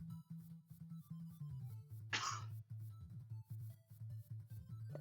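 A single short, loud burst of throat clearing rises over a steady low hum with faint music and background tones, lasting about half a second midway through.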